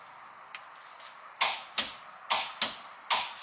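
A torque wrench set to 60 Nm on a 14 mm socket gives a series of sharp, close clicks, roughly six distinct snaps, the later ones loud and evenly spaced.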